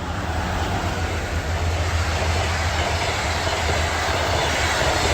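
Steady, loud rumble and rattle of a special train running on a newly built railway line to a presidential residence, with continuous wheel and carriage noise and no voices.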